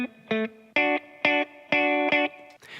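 A retro synthpop sample loop with a spring reverb sound, made of about six short, bright chord stabs in a choppy rhythm, each with a brief metallic tail, ending in a splashy wash.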